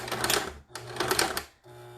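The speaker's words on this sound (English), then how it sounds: "It's going to sew backwards." Mechanical sewing machine stitching in reverse, a loud close rapid rattling clatter in two bursts separated by brief pauses, with a steady low motor hum underneath.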